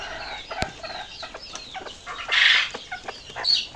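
A laying hen clucks near a backyard poultry nest, giving a run of short, close harmonic clucks with a louder drawn-out squawk midway and another near the end, and no talking.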